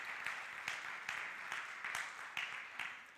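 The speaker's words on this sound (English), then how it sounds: "we can clap for him" A church audience claps in an even, rhythmic beat, with sharp claps about twice a second that sound somewhat distant and soft throughout.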